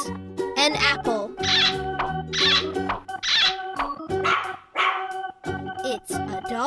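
A cartoon dog barks in a run of bright, bouncy yaps repeated several times over cheerful music in a children's farm animal cartoon.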